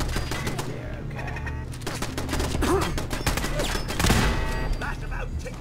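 Rapid gunfire from Fallout 4 as a turret is shot down, dense crackling bursts running continuously at close range with a heavier volley near the end, under game sound and some talk.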